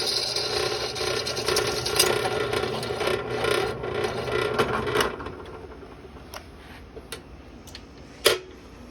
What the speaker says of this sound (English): we're going to make that a little bigger. And real easy way to do that is with this drill bit right here.